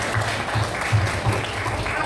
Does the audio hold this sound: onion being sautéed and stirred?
no